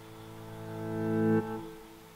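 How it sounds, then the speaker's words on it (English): A reversed piano chord swells steadily louder over about a second and a half, then cuts off abruptly with a brief tail, used as a transition effect in a corporate music track. "So this is a reverse piano."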